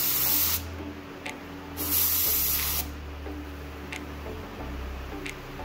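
A spray gun with a 1.3 tip laying down primer on a car, bursts of loud steady hissing spray, two long passes and one later stretch separated by gaps, near and alone.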